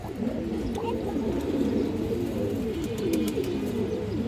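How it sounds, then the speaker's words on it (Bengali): Steady low cooing from a hen pigeon at a pigeon sale, rolling and continuous, close by, with faint bird chirps above and no talking. "আটশো পঞ্চাশ টাকা পাবে মাদি কবুতরটা এই দেখেন"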